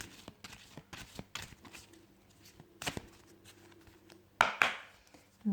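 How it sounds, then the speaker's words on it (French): Tarot cards are shuffled by hand in a run of soft, scattered riffles and taps, ending with a louder burst of card flutter near the end; quiet and close, with no talking. "Je mélange juste les cartes avant."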